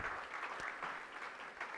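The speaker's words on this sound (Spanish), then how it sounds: "Denle un aplauso" A church congregation applauds during a Spanish-language sermon, a steady wash of clapping that stays fairly faint and distant throughout, with no break or voice over it.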